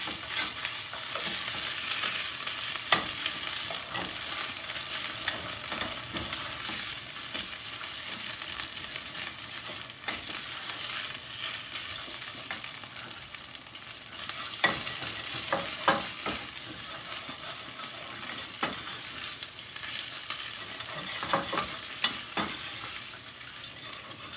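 Tomato paste frying in a pan and stirred steadily, a continuous bright sizzle broken by scraping spoon strokes throughout, close and alone with no talk.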